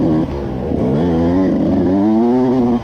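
A 125cc dirt bike engine revs close by during a cross-country race, its buzzing pitch dipping and climbing repeatedly as the throttle opens and eases.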